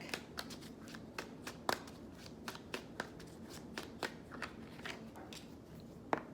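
A deck of oracle cards from the Rebel deck is shuffled quietly up close, giving a run of soft, irregular snaps and flicks with no talking.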